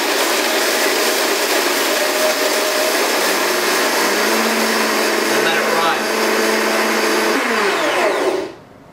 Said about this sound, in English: I'm just going to turn on the blender and gradually ratchet up the speed.